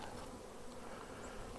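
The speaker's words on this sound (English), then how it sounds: "They're putting the honey in that brood chamber area." Honey bees buzz inside a hive. A dense, continuous drone of many wings stays steady and close throughout.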